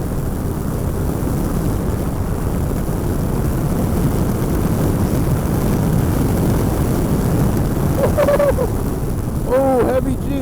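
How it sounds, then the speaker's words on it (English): Turbocharged race car on track at Laguna Seca, with a steady loud engine roar and turbo whir throughout from inside the car, rising whistling tones near the end. "Oh, the whirring of the turbos."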